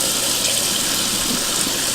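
Water pours steadily from a tap onto makeup brushes being cleaned, in a continuous, hissing splash, close and fairly loud with no pauses.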